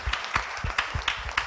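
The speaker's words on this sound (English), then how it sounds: "So let's clap for these children again." Audience at an African child day event at the Uganda law society clapping for children, a brisk scattered round of applause from a modest crowd, fairly close.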